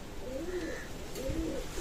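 A pigeon coos close by, two soft rolling low calls separated by a short pause, with faint background noise.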